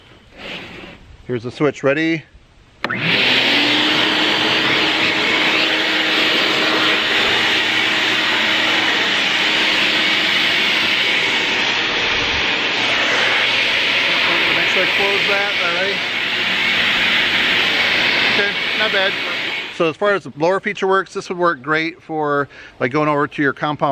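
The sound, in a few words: RIDGID Pro Pac 5.0 HP wet/dry shop vac running as blower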